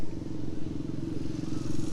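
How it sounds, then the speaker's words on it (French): A 125 cc Motobécane Moto Confort motorcycle runs nearby at a steady low rumble, its engine a continuous throb with faint clattering over a historic vehicle gathering. "Et la moto bécane. 125 moto confort."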